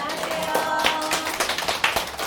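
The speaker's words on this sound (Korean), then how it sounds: "제가 안녕하세요 하면 크게 인사하고 박수 치면서 시작하겠습니다" Audience at a school admissions briefing clapping together in a room, a dense patter of many hands with slightly uneven bursts, fairly near and steady throughout.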